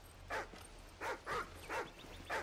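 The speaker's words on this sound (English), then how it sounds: "What's this dog up to?" A dog named Riley in the Call of Duty Ghosts campaign gives five short whimpering yips in an uneven rhythm, close and clear over a low background hum.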